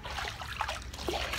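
Water pours into an inflatable swimming pool at home, a steady close trickle and splash with soft gurgles running throughout.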